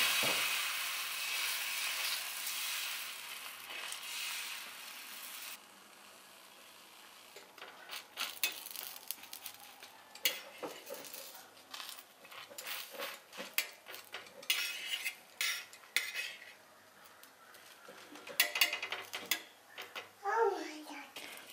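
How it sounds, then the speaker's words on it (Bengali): A ladle presses and spreads rice flour batter around a hot greased griddle for patishapta, giving soft scraping and clinking under a steady hiss, while someone talks in the background. "আবারও 1 হাতা ব্যাটার দিয়ে এইভাবে প্রেস করা চাটুর চারিদিকে এইভাবে লাগিয়ে দিচ্ছি।"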